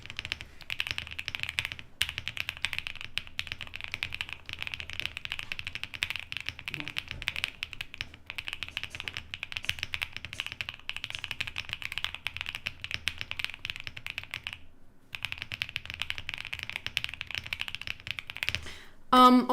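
Rapid, steady typing on a custom mechanical keyboard fitted with 21 kb keycaps and foam inside, clacking continuously at close range with a brief pause midway.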